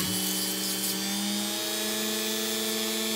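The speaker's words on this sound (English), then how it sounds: "Just get a little touch of 600 grit here." Power sanding with 600 grit abrasive while touching up a challenge lock, a loud steady whirring hum with a strong tonal drone that holds evenly from start to end, close to the mic.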